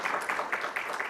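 An audience at a CSR conference claps briefly, a short burst of dense, even applause from many hands in a hall.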